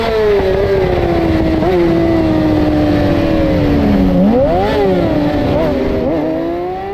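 A Yamaha R6 race motorcycle engine drones loud and close at steady high revs during a club race, with quick throttle blips and a sharp dip and swoop in pitch around a false neutral, never going quiet.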